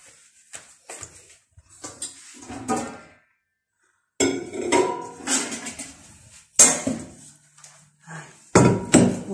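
Metal cooking pots clank and scrape in irregular bursts, close by, with brief pauses between handling sounds, while making stuffed peppers.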